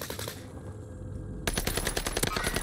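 Rapid automatic bursts from an H4 Blixen SMG in a first-person shooter, loud and close, a fast continuous string of shots after a short quieter lead-in.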